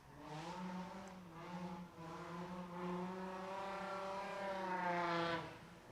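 A drift car links through the zone at a drift event, its engine holding a long revving tone with rising pitch and some distant tire noise.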